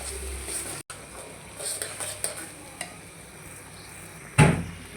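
Ground spices, including coriander powder, stirred and sautéed in a pan, the spoon scraping in soft repeated strokes over a steady low sizzle, with a sharper clatter near the end.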